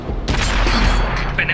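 A KV-2 tank's cannon fires in World of Tanks, one loud booming blast with a rumbling tail, under a brief voice callout.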